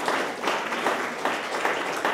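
Dense congregational applause at a Christian church service, a brief burst of many hands clapping together in pulsing waves, moderately loud and continuous.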